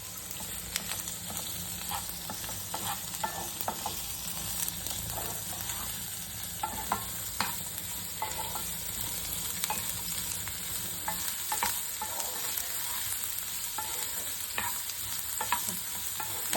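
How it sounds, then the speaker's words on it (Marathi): Finely chopped onion fries in hot oil in a pan for a Malvani onion-coconut masala, a constant crackling sizzle broken by repeated scraping clicks of a spoon stirring, close and steady with no speech. "तेल तापला की त्याच्यामध्ये तो बारीक चिरलेलो कांदो पहिलो घालायचा आणि चांगलं परतून घ्यायचं"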